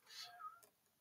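A cat meowing in the background, a single drawn-out, plaintive call that is faint and distant, in a quiet room with no talking.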